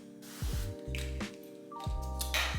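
Short hissing bursts of cooking oil sprayed over the top of sweet potato pieces, a close spritz near the start and another near the end over a steady low hum.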